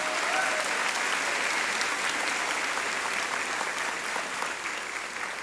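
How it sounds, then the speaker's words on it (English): Sustained crowd applause at a school district convocation for a high school junior ROTC group, a dense steady clapping that fades slightly near the end. "Let's give our junior ROTC from Weslaco High School a round of applause."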